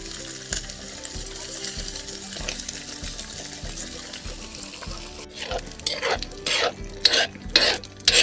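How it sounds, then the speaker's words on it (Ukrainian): Pork fat renders into cracklings, sizzling and crackling in a hot pan, with a utensil scraping and stirring that grows louder and choppier toward the end. "Уже який запах неймовірний. Смажене сальце."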